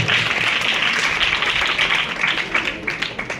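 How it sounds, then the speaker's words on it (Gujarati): Audience applause at a school event celebrating girls' education and a school enrollment festival: dense, sustained clapping that fills the space evenly and continuously without breaks. "આના માટે તાળી પાડો ભાઈ, તાળી, જોરદાર તાળી થઈ જાય."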